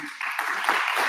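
Audience applause from a crowd, a steady wash of clapping that fills the whole short stretch at moderate loudness, with no talk over it.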